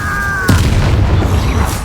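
A fiery Incendio spell blast in Hogwarts Legacy erupts with a sharp, loud burst midway, then a dense low rumble and crackle carries through amid ongoing combat noise.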